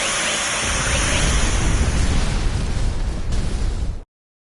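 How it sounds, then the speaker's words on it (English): A large explosion in the Star Ocean video game, a loud sustained rumbling roar of blast noise lasting about four seconds before cutting abruptly to silence. "before this explosion does it for us"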